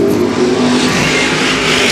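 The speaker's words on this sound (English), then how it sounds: "Nose to tail, your top five cars, they're all within a second of each other." Ford Modified race cars running nose to tail at a speedway produce a loud, continuous engine roar, several motors blending into one sustained snarl.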